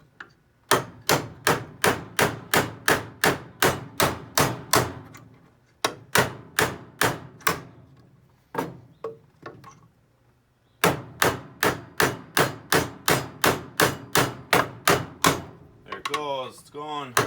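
A large flathead screwdriver drives a screw through a knot in wood, giving three runs of sharp, rhythmic creaking clicks, one per turn, close by, separated by brief pauses.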